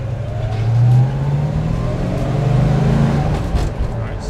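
1971 Plymouth Road Runner pulling away hard from a stop sign, its engine roaring loud and close as it revs up through the launch, with voices talking over it.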